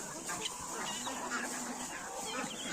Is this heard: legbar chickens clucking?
yes